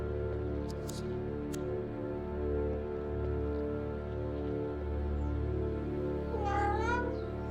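A cat gives a single drawn-out meow near the end, rising and falling, over a steady low electrical hum.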